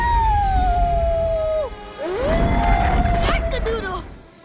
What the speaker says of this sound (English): Ugh, just howl at them.